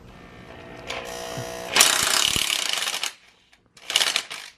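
A power tool fitted with a torque bit runs in bursts while loosening flywheel bolts on a mini car, with a loud sustained whir for about a second, a short pause, then another burst near the end.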